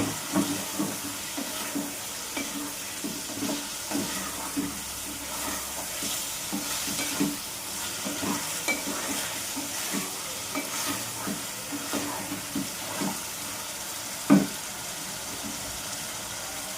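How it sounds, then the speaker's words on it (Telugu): Ginger garlic paste roasts in oil in a pan for a chicken liver gravy, a soft continuous sizzle broken by repeated scraping stirs at a steady rhythm, close and fairly quiet. "1 స్పూన్ అల్లం వెల్లుల్లి పేస్ట్ వేస్తున్నా. ఇది వేసి బాగా రోస్ట్ చేసుకోవాలి."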